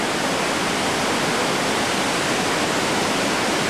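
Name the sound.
river rapids of the Colorado River in the Grand Canyon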